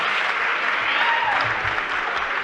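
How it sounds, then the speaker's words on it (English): A crowd at an MMA bout applauds the two fighters after the contest, a continuous roar of clapping and cheering, with a voice faintly underneath. "big round of applause to both of our fighters for a fantastic contest"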